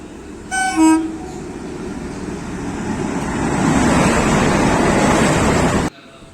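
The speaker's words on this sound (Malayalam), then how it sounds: "ട്രെയിൻ വരുന്നുണ്ട്" A train pulls into a station, opening with a short horn toot and then a building, steady rumble and roar of wagons that grows louder and nearer before cutting off, with no talking.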